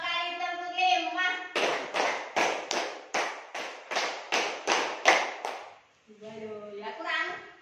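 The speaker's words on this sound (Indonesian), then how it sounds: "2 kali tepuk 5." A group of people claps a unison rhythm of roughly eleven sharp, evenly spaced claps, like a count-along clapping routine in a workshop session, loud and near, with speech before and after.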